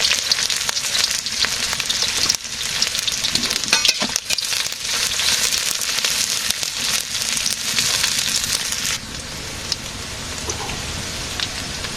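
Green chilies fry in hot oil in a village kitchen, a steady, dense crackling sizzle with occasional louder pops, continuous and close throughout with no talking.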